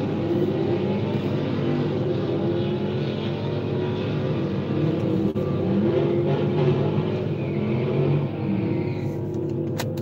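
A Camaro at a drag strip idles and revs nearby, a continuous loud engine rumble with shifting pitch and a few sharper bursts of throttle toward the end, with no talk over it.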